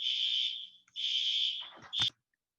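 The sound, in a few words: fire alarm sounding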